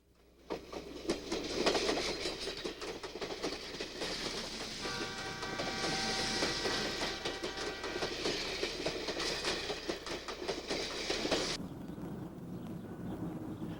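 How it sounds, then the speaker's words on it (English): An old steam train on the White Pass route in Alaska rumbles and clatters along the rails, a steady rolling clickety-clack with a faint whine, fairly close, fading off near the end. "they can board the old Steam Hall train"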